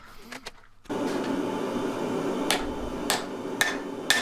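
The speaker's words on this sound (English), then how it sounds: "A few taps on the anvil, and then I ran it over the press." Hammer taps on an anvil while forging a Damascus billet made from chainsaw chain, four sharp metallic strikes spaced about half a second apart over a steady, loud roar of shop or forge noise.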